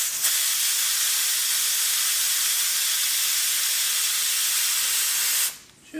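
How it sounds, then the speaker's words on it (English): Steam hisses loudly and steadily out of a pressure cooker's valve after cooking dal and rice, a broad continuous rush that stops abruptly near the end. "I'm just gonna release the rest of the steam because it still has steam in there"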